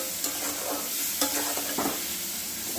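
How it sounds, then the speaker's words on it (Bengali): Potatoes frying in a pan at home, a steady soft sizzle with a few stirring scrapes and clinks near the mic, no voices. "এবার আলুটা 5 মিনিট ভেজে নেব।"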